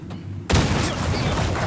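A dynamite blast in the Resident Evil 4 Remake video game, set in the mines: a sudden loud boom after a quiet half second, followed by a dense, rumbling, crackling roar that stays loud to the end.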